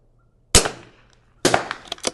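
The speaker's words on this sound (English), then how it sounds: "So that's 10 shots." Two sharp, close gunshots from a Vudoo V22S .22LR bolt-action rifle at an outdoor range shooting at 100 yards, each a crisp crack with a short fading tail, spaced about a second apart.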